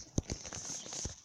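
Horse hooves clop in a short patter inside the Minecraft game world, a few soft thuds under a steady high hiss, with no talking.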